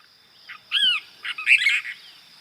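A Cassin's kingbird (Tyrannus vociferans) gives a run of loud, harsh, chattering calls in quick bursts, close and clear against a quiet background.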